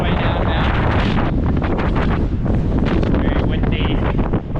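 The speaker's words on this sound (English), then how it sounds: "Very windy" Strong, cold wind buffets the microphone in loud, continuous roaring gusts on a slippery walk downhill, with a voice faintly present under the noise.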